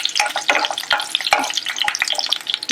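Mustard seeds and cumin crackle and pop in hot oil over a high flame, a close, busy run of sharp spitting bursts with no talk.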